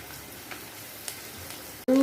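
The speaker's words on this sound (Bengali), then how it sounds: "আলু পেঁয়াজ লঙ্কা একদম প্রায় ভালো করে ভাজা ভাজা হয়ে গেছে।" Potatoes, onions and slit green chillies fry in a pan with a steady, fairly loud sizzle for about two seconds, ending in a brief louder clatter.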